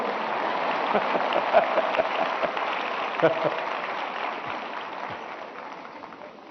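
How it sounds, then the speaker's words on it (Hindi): Scattered clapping from an audience rises and fades over several seconds, a dense patter of hands with a few sharper claps standing out. "ये आपकी पसंद की बात आई तो ताली बजाते हो आप लोग"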